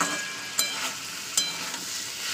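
Beetroot, carrots and peas frying in a pan with turmeric and sugar, a close, steady sizzle broken by two sharp scraping stirs about a second apart.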